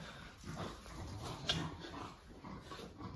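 Young puppy giving soft whimpering whines during a ball-fetch game, faint short cries scattered over quiet background with one brief sharper sound midway.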